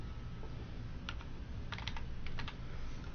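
Fingers type on a computer keyboard in a few quick clusters of soft key clicks, quiet and close, over a low steady room hum, with no one speaking.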